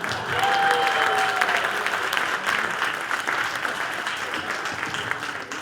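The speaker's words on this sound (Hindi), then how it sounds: "उनके लिए भी तालियां बजाएं" Sustained audience applause at a stage show, a dense, steady wash of many hands clapping throughout, fading slightly toward the end with no talk over it.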